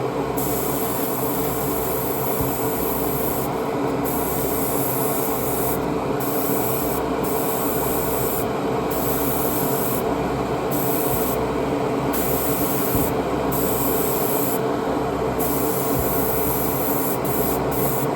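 Semi-gloss black spray paint is applied to small model car parts for a McLaren Senna build, producing a close, steady hissing rush broken by short regular pauses between passes.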